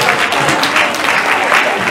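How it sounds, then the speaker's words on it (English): An audience at an oldies night gives a guest a big round of applause, dense clapping at an even, loud level for the whole stretch. "Can we give him a big round of applause?"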